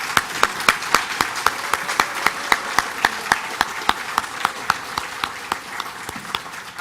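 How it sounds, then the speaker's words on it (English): Applause at a construction and welding certificate graduation ceremony, with sharp individual claps ringing out in a steady, even rhythm over a softer bed of scattered clapping that thins gradually. "Let's give them a round of applause."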